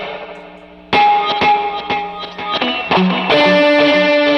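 Electric guitar notes ring out drenched in reverb and echoing delay, with a faint trailing wash before a louder strummed passage continues.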